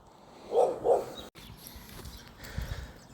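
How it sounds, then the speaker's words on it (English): Two sharp dog barks ring out close together near the start, then fade to quiet room noise with low rumbles. "you had to pause it because of that dog"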